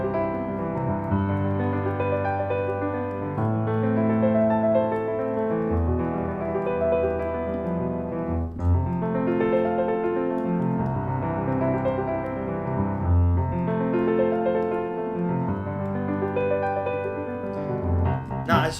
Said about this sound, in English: broken arpeggio tip on the left hand, and the pattern sounds like this.